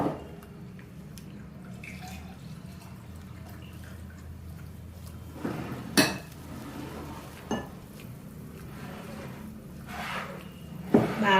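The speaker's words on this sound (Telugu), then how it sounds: "బాగా మొత్తం అంతా మిక్స్ చేసుకోవాలి." Batter for Mysore bonda being stirred in a bowl with oil and hot water, giving soft wet clinks of a utensil against the bowl and a few sharper knocks near the middle and end.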